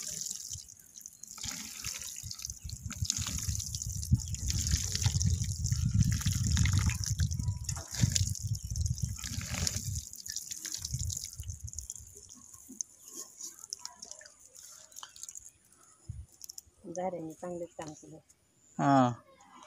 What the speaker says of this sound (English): So keep on watering the soil till the time it stops absorbing the water.